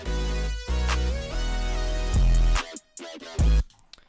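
A trap beat playing with its EQ switched off during a drumless stretch, giving a full, loud sound: a sustained melodic bed over deep bass, with two brief drops near the end and no voices.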